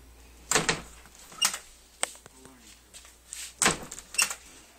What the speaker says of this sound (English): The door don't shut so good.